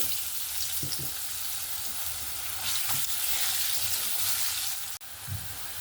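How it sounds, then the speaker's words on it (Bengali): Cut potatoes frying in hot oil seasoned with turmeric and salt, a loud continuous sizzle with bubbling crackle and a few soft stirring knocks, close and alone. "এবার আমি যে আলুগুলো কেটে রেখেছিলাম ভেজে নেব"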